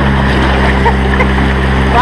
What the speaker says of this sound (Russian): Мотор работает.